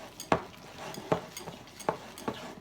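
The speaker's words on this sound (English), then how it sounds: "Well, there's my butter. And I'm just going to mix that in." A big spoon stirs butter into blueberry muffin batter, striking the bowl in four evenly spaced thuds and scrapes over a soft, continuous mixing swish.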